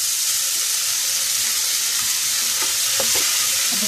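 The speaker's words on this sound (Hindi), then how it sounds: "और साथ ही मैं इसमें कुछ टमाटर भी डाल देती हूँ" Tomatoes added to a pan of soya chunk curry, giving a steady loud sizzle with faint stirring clatter underneath.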